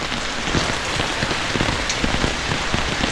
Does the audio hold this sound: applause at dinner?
no